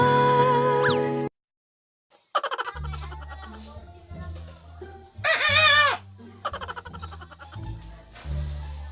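A white chicken clucks in a few short, bright bursts at close range, with quieter stretches and a person's voice talking between the calls.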